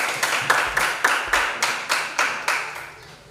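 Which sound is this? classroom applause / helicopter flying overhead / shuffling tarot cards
classroom applause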